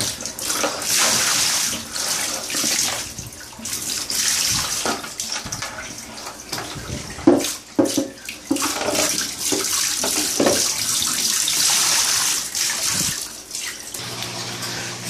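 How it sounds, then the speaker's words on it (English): Aquarium water draining out during a routine water change, a close, continuous splashing rush of running water with uneven surges and gurgles, a few louder sloshes midway, no voices. "So at this point, everything is draining pretty good"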